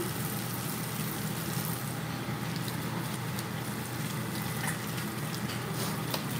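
Continuous dense bubbling and sizzling of oil frying plantain, steady and fairly loud with no voices.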